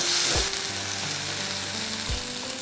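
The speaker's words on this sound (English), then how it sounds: "So after frying the onions," Chopped onions and ginger garlic paste frying in a pan for a spicy mixed dal, with a steady, close sizzle and two brief low thumps from the pan, with no one speaking.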